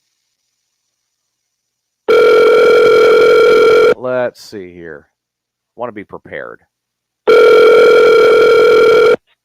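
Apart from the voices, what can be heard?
telephone ringing on an outgoing call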